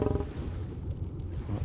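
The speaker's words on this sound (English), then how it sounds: "That's my saber-tooth cat." A saber-tooth cat in ARK Survival Ascended gives a low, rumbling roar and growl, close and fairly loud, lasting under two seconds.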